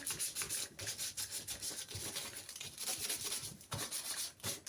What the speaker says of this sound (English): sand the surface down just a little bit is so that it gives the surface some texture so the paint will adhere better